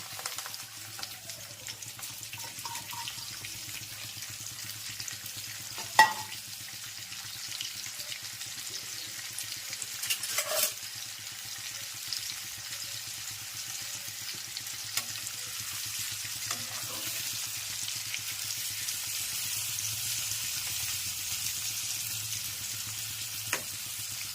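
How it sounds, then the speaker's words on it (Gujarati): Whole spices such as mustard seeds, cumin and fenugreek crackle in hot oil as tempering for stuffed okra curry, a faint continuous sizzle with a few sharp pops and light stirring. "વઘાર હો જાયેગા શરૂ."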